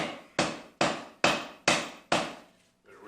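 Five evenly spaced, ringing hammer taps strike welding-hot twisted steel cable being forged into Damascus, each blow sharp and close with a short decaying ring, followed by a faint shuffle.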